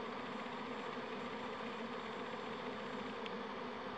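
A honeybee swarm leaving the hive, a dense, steady buzzing hum from many bees, close and continuous, alone with no voices.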